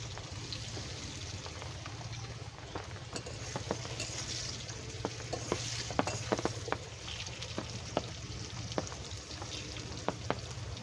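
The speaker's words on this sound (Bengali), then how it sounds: "আলুগুলো ভাজা হয়ে গেছে, আমি তুলে নিচ্ছি।" Potato pieces fry in hot oil in a pan for a katla fish curry, a continuous close sizzle broken by scattered sharp pops and spatters.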